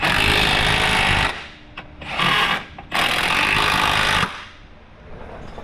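Power tools drive in the rear subframe bolts on a Ford Mustang with a 4.6 SOHC engine, three loud bursts of whirring with brief pauses between them, then a quieter tail of workshop noise.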